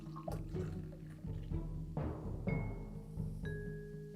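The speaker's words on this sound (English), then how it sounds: "It's a nitro. Pour it hard." A strong 10.7% nitro stout is poured hard from a tap, a faint run of splashing liquid and small clinks with brief ringing tones, quiet and without talk.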